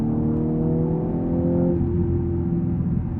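2018 Audi S5 engine pulling at half throttle in third gear, a rising turbocharged drone that climbs steadily in pitch from inside the cabin, loud and continuous with no talking.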